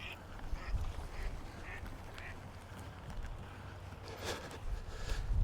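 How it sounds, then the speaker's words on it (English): Ducks on a river in the Black Hills, South Dakota, quack a few times and splash faintly in the water, with low outdoor rumble underneath. "I saw these ducks splashing around"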